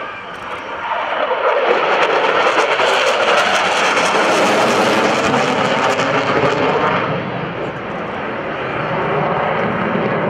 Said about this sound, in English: From the left, it's the Super Hornet minimum radius turn.